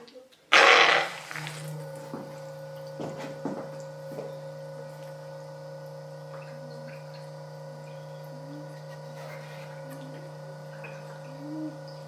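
A PCB flow etching machine with a bigger circuit board loaded starts with a brief loud burst, then settles into a steady pump hum that runs on alone at moderate level.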